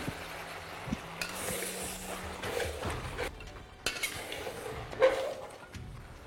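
A spoon stirs mutton in a pot after green chilli paste goes in, making soft clinks and scrapes of metal against the pot, close and fairly quiet, alone without talk.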